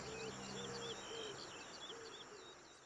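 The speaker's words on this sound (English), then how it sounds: "Birds in the rainforest canopy took to the sky" Birds calling in a rainforest canopy in Age of Empires 2: repeated soft hooting and cooing calls with high chirps, faint beneath a steady ambient wash.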